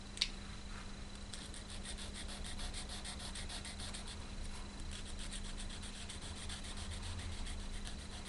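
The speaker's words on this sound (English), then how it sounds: "After using the 400 grit polishing stone, I'll use 400 sandpaper, and after that 600 sandpaper." Sandpaper of 400 grit rubbed back and forth over a small metal speargun trigger part, a faint, steady rhythmic scratching of repeated strokes with no talk.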